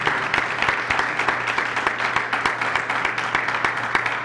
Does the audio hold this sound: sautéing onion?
no